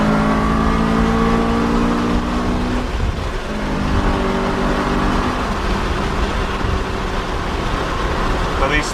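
A Honda Civic Si EM1 with a B16 engine revs during double clutching, engine tones rising and falling in steady sweeps, loud and close with a continuous in-cabin drone.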